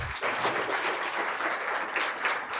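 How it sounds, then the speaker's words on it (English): Audience at a Copa Health emergency preparedness conference breaks into steady, dense applause that fills the whole moment, loud and continuous from start to finish. "another big round of applause"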